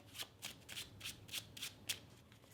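A deck of playing cards being shuffled close up, with a series of quick riffling bursts in an uneven rhythm and no voices.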